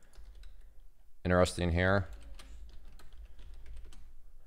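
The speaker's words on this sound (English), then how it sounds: "If you do hear typing, you are not hearing things." Computer keyboard typing from a chat room, a soft continuous patter of keys running under the whole stretch while someone speaks briefly near the start.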